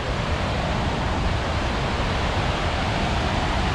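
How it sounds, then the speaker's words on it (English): River rapids rush loudly at Bulls Covered Bridge in Connecticut, a dense, steady roar of churning water with no pauses, close by and filling the whole scene. "That's some serious rapids right there."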